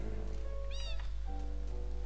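A cat in the Minecraft video game gives a single clear, rising-and-falling meow over a steady hum of game ambience, close and moderately loud.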